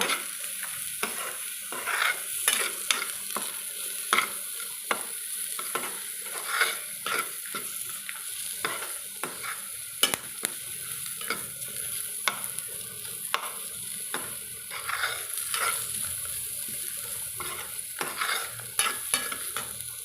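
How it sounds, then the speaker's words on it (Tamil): Beetroot with a small piece of tamarind sautéing for chutney, a constant close sizzle under busy, rhythmic scraping and tapping of a spoon stirring the pan, no talk. "இப்போ ஒரு சின்ன துண்டு புளி இதுலேயே போட்டு நம்ம வதக்கிக்கலாங்க"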